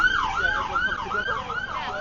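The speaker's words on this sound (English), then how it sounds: "you see how everyone clears straight away as soon as there is an ambulance" Wailing ambulance siren moving through a crowd at a street protest in Epping, loud and close with a regular rising and falling sweep repeated several times, faint crowd noise beneath.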